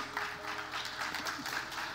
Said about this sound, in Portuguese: Obrigado os 3 gatos pingados que estão aplaudindo